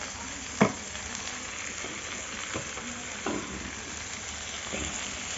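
Ground turmeric, chili, cumin, coriander and salt sizzle in hot oil in a pan, a steady frying hiss broken by a few scraping stirs, close and fairly loud, with no voices.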